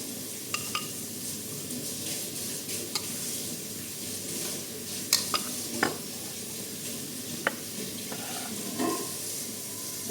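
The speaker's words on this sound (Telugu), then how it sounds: "ఇప్పుడు సోస్ వేసుకుంటాను." Sauce goes into food frying in a pan and the mixture is stirred, a steady close sizzle with scraping and occasional clinks of a utensil against the pan, no talking.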